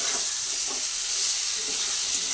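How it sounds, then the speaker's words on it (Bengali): Pointed gourd pieces frying with salt in hot oil, a loud continuous sizzle close by with occasional stirring scrapes, no talking. "নুন দিয়ে একটু ভালোভাবে নাড়াচাড়া করে আবার একটু ভেজে নিচ্ছি।"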